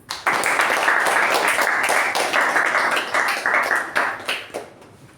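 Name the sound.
applause welcoming a Toastmasters speaker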